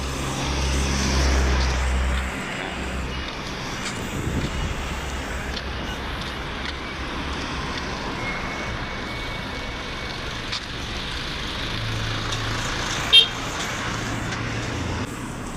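Traffic rushes past on a wide highway with a steady broad roar, and one vehicle swells nearer and louder before fading, with no talking.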